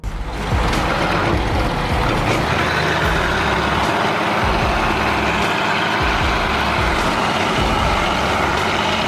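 A large oversized truck rig pulls away, its heavy engine rumbling loud and steady throughout, with a brief air-brake hiss near the start and no voices.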